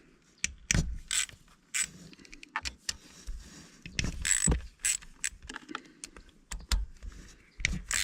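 Ratchet wrench backing out three small 8 mm bolts on a 2024 CFMOTO Cforce 800xc ATV during an oil change, giving close, quick bursts of clicking ratchet strokes with short pauses between them.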